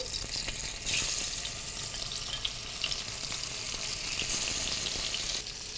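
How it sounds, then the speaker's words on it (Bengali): Marinated desi koi fish (climbing perch) frying in hot oil, giving a steady, loud, close sizzle with crackling that runs without pause and with no talk. "আমাদের কই ম্যারিনেটও হয়ে গেছে, এবার আমরা ভাজার জন্য তেলে দিয়ে দিচ্ছি"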